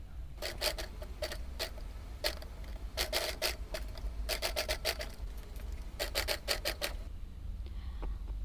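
Bursts of rapid mechanical stitching from a sewing machine working a clear vinyl pouch, several short runs separated by brief pauses, close and fairly loud over a low hum, with no talking.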